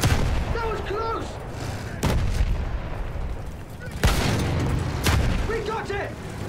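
Battlefield 1 gunfire and artillery crash out in loud, sharp blasts at roughly two-second intervals, each booming heavily over a constant rumble of battle while shouted voices come and go between the shots.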